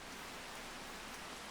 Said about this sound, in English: The rain has arrived.